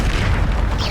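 The Bombarda blast spell in Hogwarts Legacy goes off as a single loud, close booming explosion that fills the moment with a dense low rumble.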